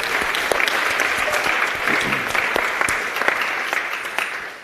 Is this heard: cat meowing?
no